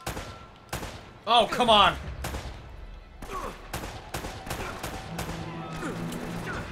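Gunfire in the video game Uncharted: Drake's Fortune, a few sharp shots and bursts over a busy game soundscape, with a player talking and exclaiming in frustration.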